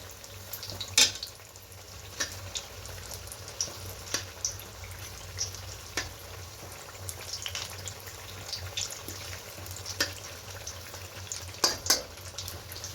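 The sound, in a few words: beguni (battered eggplant fritters) frying in oil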